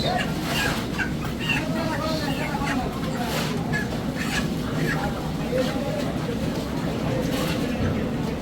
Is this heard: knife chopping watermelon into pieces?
no